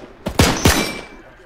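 Gunfire in the WW2 D-Day parachute scenario of ArmA 3: two sharp, loud shots about a quarter second apart, each with a short ringing tail, standing alone.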